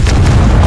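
A Confringo fire spell explodes in the video game Hogwarts Legacy, a loud booming blast with a deep rumbling low end that fills the short moment.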